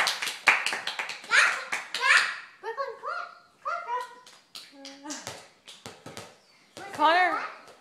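Sharp hand claps from a young child ring out in quick bursts at close range, mixed with children's voices, playful shouting and a ball bouncing at home.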